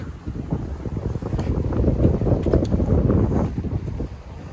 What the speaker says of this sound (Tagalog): Yan, mahangin pa